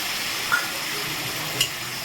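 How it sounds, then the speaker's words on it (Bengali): Fish curry masala with turmeric and a splash of water cooks down in a pan, a constant close sizzle with two brief taps of a spoon. "এবার এটাকে আমি কিছুক্ষণ একটু কষিয়ে নেব"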